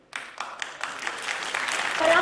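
Applause from an audience at the inaugural session of a student organisation's gathering in Jammu and Kashmir, starting abruptly with scattered claps that build into steady clapping, growing slightly louder toward the end.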